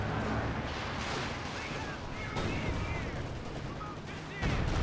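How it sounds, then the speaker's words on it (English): A Company of Heroes 2 artillery barrage in a USF versus OKW multiplayer match rumbles with continuous heavy blasts and gunfire, a dense roaring wall of explosions that swells again near the end. "Safus barrage coming on in. This can be quite devastating."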